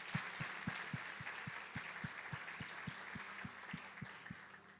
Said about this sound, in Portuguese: Vamos aplaudir o Senhor por essa razão?